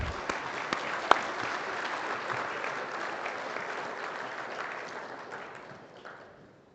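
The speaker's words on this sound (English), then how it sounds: "Let's give all of our Skillathon contestants a round of applause, please." An audience at a 4-H livestock judging awards breakfast claps for Skillathon contestants, a steady round of applause with a few sharp individual claps that gradually fades away at the end.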